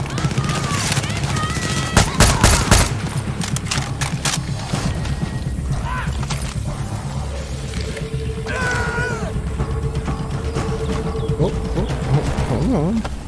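Gunfire in the video game Far Cry 6 sounds as dense bursts of rapid shots with mechanical clatter, loud and close, with a voice talking during the shooting.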